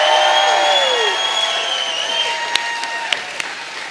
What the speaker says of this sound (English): Can I get another round of applause for our amazing state party